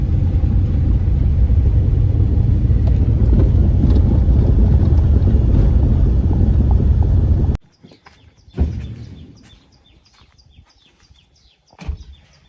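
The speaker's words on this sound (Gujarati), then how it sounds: "ટ્રેક્ટર આવી ગયું છે અહીંયા" A loud, steady low rumble from a new Mahindra Yuvraj 215 tractor engine close by that suddenly stops, leaving near-quiet with a few faint knocks and thumps.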